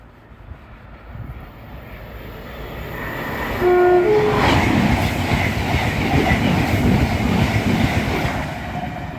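A Voyager passenger train runs through Northallerton station at speed, sounding a loud two-tone horn as it nears. The roar of the train rises quickly and stays loud and close, a broad rushing rumble with wheel clatter, and no voices.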